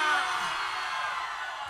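A loud crowd at a live concert roars and whoops together in a sustained wash of cheering, steady throughout with no single voice standing out.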